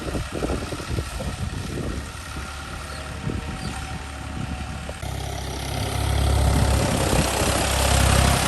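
A tractor engine runs at a steady idle on a Punjabi farm, a low continuous rumble that swells and grows louder partway through.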